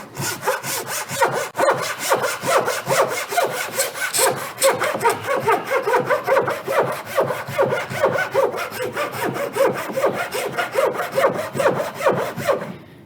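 A hand saw rasps steadily through wood in quick, even back-and-forth strokes, close and loud, with no talking.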